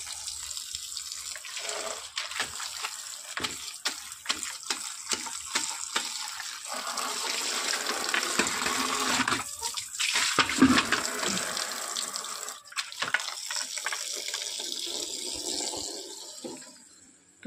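Tap water running at a sink while teeth are brushed, a continuous rushing stream with splashes and shifting flow, fairly close, ending in a few drips.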